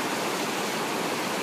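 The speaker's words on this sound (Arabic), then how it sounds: "ما شاء الله هذا نهر السند يبلغ طوله 3000 كيلو" The Indus River rushes through the Himalayan mountains at Sonamarg, Kashmir, a steady, even hiss of flowing water with no break or voice over it.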